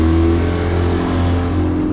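A 2008 Yamaha F115 outboard motor on a Rogue Marine boat runs in gear with a steady, loud, low engine drone, close and continuous for the whole stretch.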